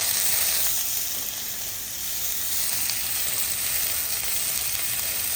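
A medium chopped onion fries in a pan for a homemade dal, producing a loud, continuous close-up hiss and sizzle with a brief dip as it is mixed, no talking.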